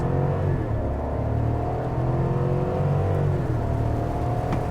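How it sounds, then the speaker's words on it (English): A 2022 GMC Sierra Denali Ultimate pickup with a V8 engine pulls hard from 0 to 60 on wet pavement, its engine note rising steadily as it accelerates, heard from inside the cab. "let's go ahead and try one more time when we get here, 0 to 60 wise"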